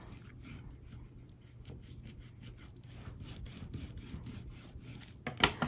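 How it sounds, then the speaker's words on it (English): Paper is burnished onto a folio cover, giving a continuous soft rubbing and scraping close by, with a few sharper strokes near the end and no talking. "And burnish."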